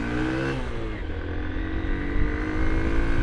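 A 2023 Hero Hunk motorcycle rides through turns, its engine droning loudly and steadily close by, with the pitch shifting slightly as it holds speed; no voices are heard.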